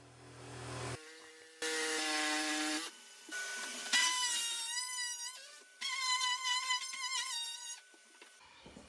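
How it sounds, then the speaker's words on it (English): Jigsaw cutting out an old kitchen with a vacuum cleaner running just in front of it, heard as loud buzzing, whining bursts of cutting that start, stop and change pitch over a steady vacuum drone, with no talking. "I had the hoover in front of the jigsaw to catch it as it came out"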